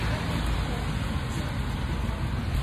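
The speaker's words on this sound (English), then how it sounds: "Rain is beating me." Steady rain pours down outdoors on a person standing without an umbrella, a dense continuous hiss close around the listener with no breaks.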